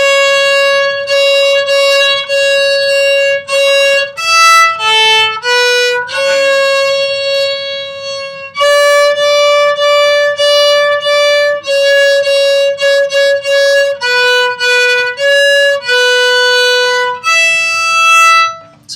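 The first two measures of Jingle Bells are played on a string instrument as a clear solo melody. Repeated, evenly paced notes have some held out longer, and the phrase plays twice, loud and close with no talking.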